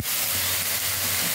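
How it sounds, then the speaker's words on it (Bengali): A splash of water hitting hot frying spices in a pan bursts into one loud, steamy hiss that rushes on for about a second and a half. "একটু জল দিয়ে দিলাম, হালকা করে জল দিয়ে ভালো করে সেটা নেড়ে চেড়ে"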